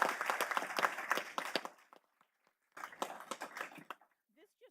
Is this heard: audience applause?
yes